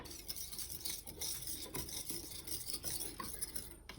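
A knife blade rasping back and forth across a dry sharpening stone, close and quiet, in a steady run of gritty scraping strokes.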